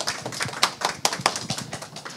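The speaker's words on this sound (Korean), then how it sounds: "박수로 맞이해 주세요." A conference audience applauds to welcome a presenter, a short burst of scattered, fairly faint hand claps with uneven rhythm.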